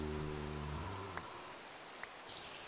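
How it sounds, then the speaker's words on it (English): Flowing water in the Minecraft video game gives a steady, soft, rain-like hiss with a low rumble at first, faint and continuous with a couple of tiny drip ticks and no talk. "Let the water flow."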